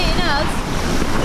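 Strong wind gust buffeting a racing yacht under sail, a loud continuous roar of wind noise and rushing water with a voice talking over it.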